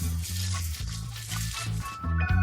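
Potatoes frying in oil give a steady, close sizzle and hiss throughout, over a low tonal background.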